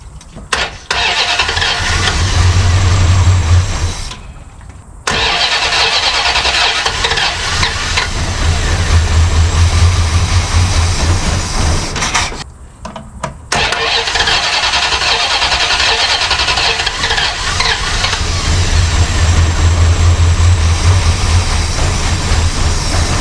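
Plymouth Roadrunner V8 engine fitted with a brand new carburetor cranks, starts and runs with a loud, steady rumbling idle, cutting out twice briefly before catching and running on.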